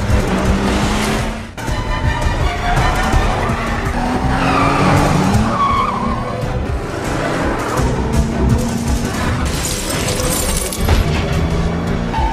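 Movie car chase as a car reverses in a hurry, tires skidding and squealing loudly over a roaring engine, with repeated screeches and a sharp impact-like thud near the start, continuous and intense throughout.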